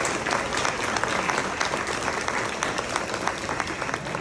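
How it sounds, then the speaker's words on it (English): An audience at a college dance exhibition applauds the drummers and singers: thick, continuous clapping from many hands, close and loud, holding steady throughout. "Can we give them a big round of applause for the drumming and the singing here?"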